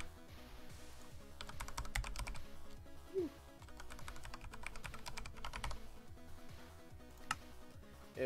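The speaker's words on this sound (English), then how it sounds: "You have to type in your password and email." Someone types an email address and password on a computer keyboard, with rapid, close key clicks in quick runs and short pauses, and a few louder keystrokes in between.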